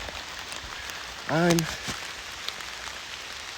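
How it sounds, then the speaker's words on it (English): Rain falls in the woods during a whitetail bowhunting outing, a soft, steady patter and hiss throughout, with a single brief spoken word partway through. "But the rain has picked up."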